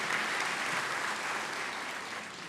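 Sustained applause from a crowd, a dense even patter of clapping that fades slightly toward the end.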